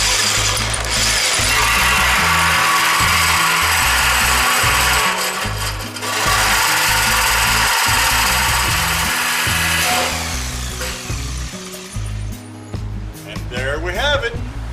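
A Ryobi power tool runs with a loud, close, continuous whirring grind for about ten seconds, dips briefly partway through, then winds down and stops.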